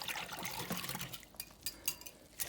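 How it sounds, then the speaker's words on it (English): Lemon-flavored frozen fruit mixture for sugar-free shaved ice pours into a cup with a soft liquid trickle, then a few faint clinks and splashes, quiet and close. "going to pour this in this cup"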